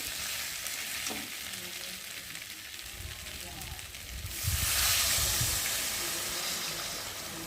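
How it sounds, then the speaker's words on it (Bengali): Water splashes into a pan of thick spiced egg curry that was sizzling, the frying hiss jumping to a louder, brighter rush partway through and staying steady near the mic. "আর এখন আমি এর মধ্যে জল দিয়ে দেবো।"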